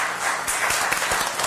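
Audience hand claps at a city commission meeting, a moderately loud round of applause with irregular overlapping claps, a few crisper individual claps standing out.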